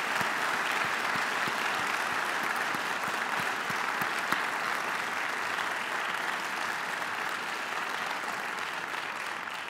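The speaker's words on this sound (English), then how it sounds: "Please give one more round of applause for Rick Carroll, Yolanda Wisher, and Cindy Louden." Sustained applause from a large audience at an evening honors ceremony, a dense, steady roar of many hands clapping throughout, holding level before easing slightly toward the end.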